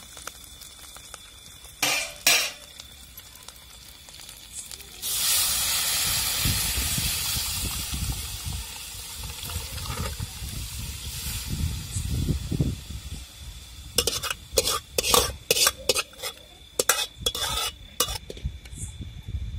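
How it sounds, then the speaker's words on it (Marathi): Spice masala dropped into hot oil for tempering tur ghugrya, a loud sustained sizzle and hiss with stirring clatter, preceded and followed by sharp utensil knocks close by. "ते एकत्र करून घेतला का तर ते फोडणीला टाकायचं आता"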